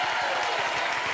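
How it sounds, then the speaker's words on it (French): Applause from a TV studio audience at the end of a French talk show segment: dense, loud, sustained clapping filling the short moment, with no talking over it. "Applaudissements pour Jean-Luc Lemoyne."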